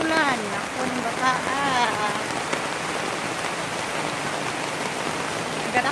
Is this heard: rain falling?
yes